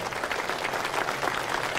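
A seated audience at a political roadshow gathering in Sungai Rapat, Gopeng, Malaysia, applauding volunteers who set out chairs; steady dense clapping at moderate level, sustained through the short stretch with no talk over it.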